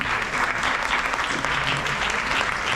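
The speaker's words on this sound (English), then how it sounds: "please give a round of applause" At a dance ballet festival at a cultural center in Houston, an audience gives steady, dense applause, a continuous wash of clapping from a full room.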